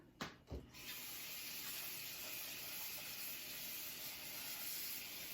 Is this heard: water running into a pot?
yes